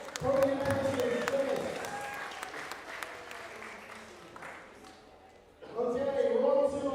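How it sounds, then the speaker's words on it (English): Audience applause for podium finishers at a strength lifting event, a dense steady clapping crowd that dips briefly then swells again loudly, with voices mixed in. "round of applause for all our podium finishers."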